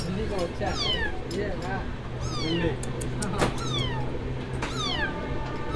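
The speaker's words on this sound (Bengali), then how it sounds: "যাওয়ার পথে কিন্তু এরকম একটা ছোট্ট বিড়ালে বাচ্চা দেখা গেল" A small kitten on a train journey from Kolkata to Deoghar meows repeatedly in short rising-and-falling cries, close and clear, over steady train rumble while people talk nearby.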